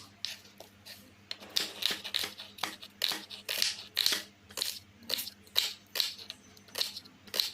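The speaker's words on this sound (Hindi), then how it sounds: "यहाँ पे मैं प्याज काट रही हूँ।" A knife chopping onions for iftar cooking, a quick irregular series of crisp cuts with sharp high crunches, close and clear with no talk over them.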